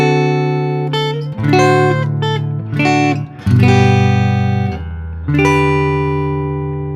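Guitar plays the slow "sleep in heavenly peace" phrase of Silent Night, with clear sustained single notes and ringing chords moving through the line, close and fairly loud with no talking.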